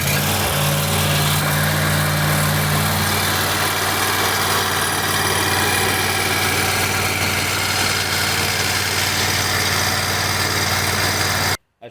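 Kohler engine on a zero-turn mower, just reassembled after an oil leak repair, runs steadily and loud at a constant idle with a low, even drone and vibration throughout, then cuts off abruptly at the end.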